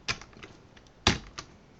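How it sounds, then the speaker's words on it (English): Keystrokes on a computer keyboard while entering shortcuts: two sharp, loud clicks about a second apart, each followed by a few lighter taps, close and alone over quiet background. "I'm going to use some keyboard shortcuts."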